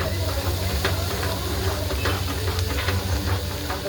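Masoor lentils roasting in a pan, giving a dense, steady hiss with a low rumble and faint scattered crackles throughout.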